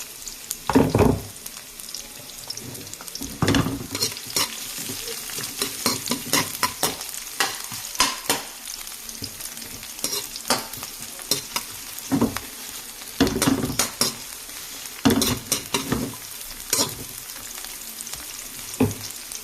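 Onion and garlic sautéing in a pan for pork pakbet, with bursts of sizzling and repeated scraping stirs at an irregular rhythm, close and moderately loud, no talking.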